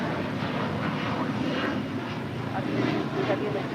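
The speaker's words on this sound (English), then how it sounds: "American Airlines Flight 481 heading to Philadelphia on an A321neo just delivered in February of this year" An American Airlines Airbus A321neo jet airliner at LAX gives off a steady, fairly loud engine roar, with a voice talking over it.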